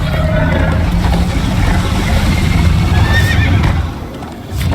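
A horse whinnies over the steady thud of galloping hooves in the video game Minecraft: Story Mode, loud and close, with rushing motion noise throughout and a brief dip near the end.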